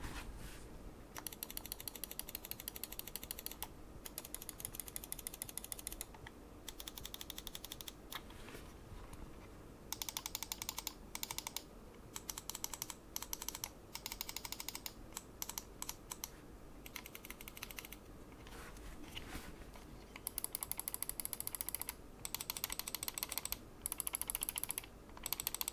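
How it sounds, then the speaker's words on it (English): Button clicks of an AOC AGON GM500 heavyweight budget RGB gaming mouse, crisp rapid clicking in bursts and runs separated by short pauses, close and quiet with no talk. "I'll give you a sound test of the clicks right now."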